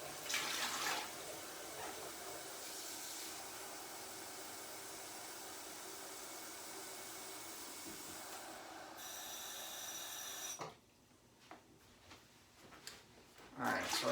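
Tap water runs steadily into a pan for bread dough in a home kitchen, a continuous hiss that stops abruptly near the end, followed by a few light clinks and handling noises.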